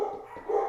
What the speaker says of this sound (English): Every time I make a video, the dogs love to bark.